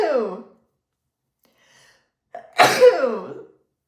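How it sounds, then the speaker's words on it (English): A sharp, close sneeze preceded by a sharp inhaled breath, with a short vocal sound at the start and quiet in between. "Maybe that's just your confirmation sneeze."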